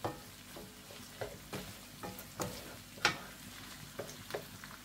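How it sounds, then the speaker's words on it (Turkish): Tomato and pepper paste sautéing in a wide pot for a cauliflower and minced meat dish, a soft steady sizzle broken by scraping stirs and light clinks of a utensil. "Salçamızı da güzelce kavuruyorum."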